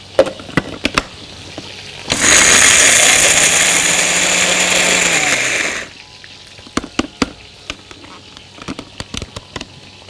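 An electric spice grinder whirs steadily for about four seconds as it grinds a curry spice mix, loud and close, with scattered kitchen clicks and taps before and after.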